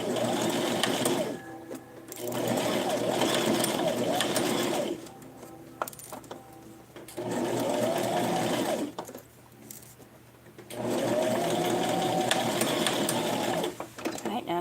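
A sewing machine stitching a doll outfit runs in three long, steady whirring bursts separated by pauses, with a person talking in between.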